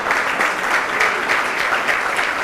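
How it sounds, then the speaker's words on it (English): An audience at a school annual day claps for the prize winners, with dense, continuous applause sustained at an even level for the whole moment. "A round of applause."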